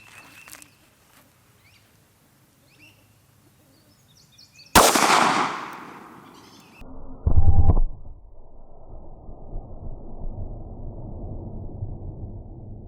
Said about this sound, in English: we're gonna shoot the 147 grain Federal Premium HST and see how it does